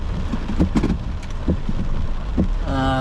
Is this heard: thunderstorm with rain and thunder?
yes